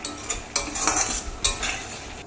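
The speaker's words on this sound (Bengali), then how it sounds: "চিনি দিয়েও আমি এটাকে কষাবো।" Katla fish curry with a little sugar is sautéed in a pan, with a spatula scraping and stirring in uneven bursts over a soft background sizzle.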